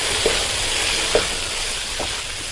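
Spiced keema mixture with red chilli powder is stirred in a hot pan, frying with a steady sizzle, and a spoon scrapes the pan now and then.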